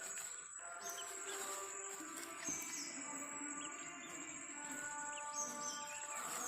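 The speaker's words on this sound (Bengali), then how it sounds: "গুগুর পাখির মতো লাগে মুরগির বাচ্চাগুলো।" Chicken chicks chirping together in soft, high, continuous peeping, faint and steady with a few brief clicks and no talk.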